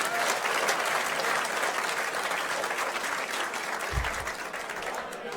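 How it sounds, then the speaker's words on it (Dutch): Dense, sustained applause from a large crowd fills a sports awards evening, the RTV NOF Sport- & Ondernemersverkiezing 2017, a continuous roar of clapping with faint voices mixed in and a low thump near the end. "Nog een heel groot applaus."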